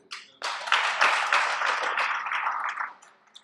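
An audience bursts into loud applause, dense clapping that swells quickly, holds for about two and a half seconds and then fades out.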